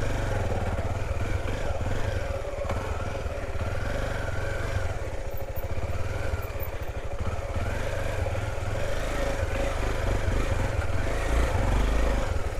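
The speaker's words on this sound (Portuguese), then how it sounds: "Senão a moto não vai de jeito nenhum." A motorcycle engine labours steadily on a muddy, clay-slick trail near Salto Ventoso park in Farroupilha, Rio Grande do Sul, its loud continuous drone rising and falling close by for about twelve seconds.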